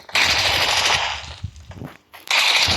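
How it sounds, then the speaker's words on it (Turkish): Gunfire in PUBG on the Erangel map, with a shotgun going off: two loud, dense bursts of shots close by, separated by a short quieter gap with scattered clatter. "O pompalı atıyor biri."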